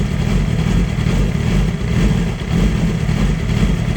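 A motorcycle engine running after a spark plug change, a loud, close, continuous rumble with steady idle pulsing and a brief dip mid-way.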